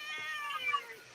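A female cat meows in a drawn-out, rising complaint close to the microphone, one continuous plaintive call with a faint low murmur beneath it.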